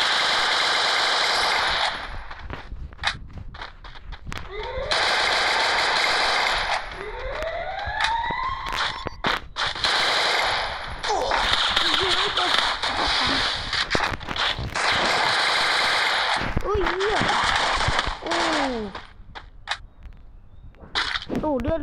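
Rapid bursts of machine-gun fire in repeated clusters over about twenty seconds, mixed with rising and falling siren-like whines, loud and close throughout.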